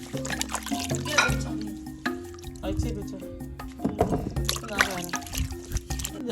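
Sliced cassava being washed by hand in water, with splashing, dripping and trickling sounds under steady talking and background music.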